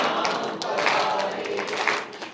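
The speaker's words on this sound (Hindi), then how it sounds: "जब तक सारे ताली नहीं बजाएंगे अगला शुरू नहीं करूं" Audience clapping at a Hindi kavi sammelan poetry recital, a steady, dense patter of many hands filling the whole stretch at moderate level, with faint voices mixed in.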